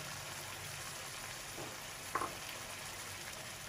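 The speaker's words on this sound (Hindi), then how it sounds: "ये हम 1 प्याली पानी डालेंगे।" Minced meat (keema) with whole spices fries in a pan with a steady, close sizzle. Midway a short burst marks water being poured in, then the frying hiss carries on without talk.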